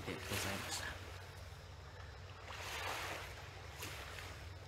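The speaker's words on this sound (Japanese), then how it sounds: "8月21日の糸島の海と朝日でございました" Ocean waves on the sea at Itoshima on a summer morning make a soft, steady wash with gentle swells rising and falling, faint and continuous with no voices.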